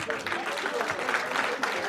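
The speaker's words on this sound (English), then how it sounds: "So I think we should just keep clapping." An audience at a high-level event in Nigeria claps, a steady patter of applause with voices talking over it.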